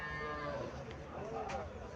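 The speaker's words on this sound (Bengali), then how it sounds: "দেশি গাভী দেখা যাইতেছে।" Low lowing from a desi cow among cattle at a livestock market in Cumilla, continuous and moderately loud amid a busy, noisy background.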